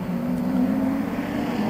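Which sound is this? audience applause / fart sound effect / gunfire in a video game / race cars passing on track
race cars passing on track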